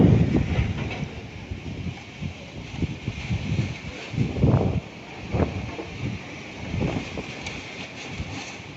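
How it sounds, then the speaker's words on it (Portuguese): Strong night wind in Cubatão's Cota 200 neighborhood buffets the microphone in loud, surging gusts that rise and fall, with rumbling low bursts and no talking. "O vento é forte nessa madrugada."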